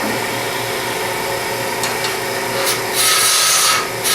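Plywood blank spinning on a wood lathe while a turning tool steadily cuts it down into a cylinder, producing a continuous close scraping, rasping roar that grows harsher and louder toward the end, with no talk.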